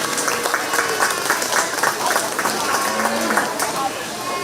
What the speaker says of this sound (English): We give them a round of applause today